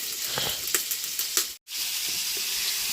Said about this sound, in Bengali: মুরগির গোষ্ঠটা ভাজছি